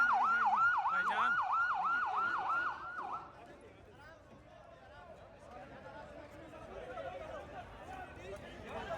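An ambulance siren wails loudly in a rapid, repeating up-and-down pattern for about three seconds, then cuts out, leaving crowd chatter and street noise at a hospital emergency scene during the aftermath of an attack.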